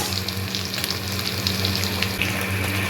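Spinach curry frying in a pan while being stirred, a steady close sizzle with faint scraping over a constant low hum, no voices.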